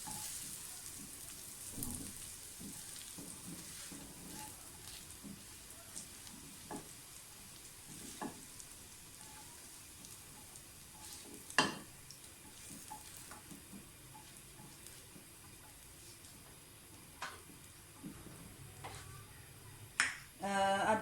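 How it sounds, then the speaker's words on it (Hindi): Dry fruits sizzling in hot oil in a pan for Eid sheer khurma, a steady crackling fry with scattered sharp pops and occasional clinks, close and moderately loud, with no talking. "ड्राई फ्रूट्स हमारे फ्राई हो गए हैं"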